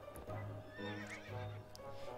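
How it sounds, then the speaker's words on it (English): In the video game To The Moon, a horse gives a loud, shrill neigh and whinny, rising and falling over about two seconds, with low snorting underneath and no speech. "Do not ride this horse."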